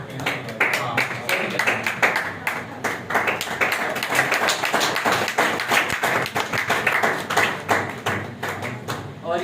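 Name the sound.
audience applause and clapping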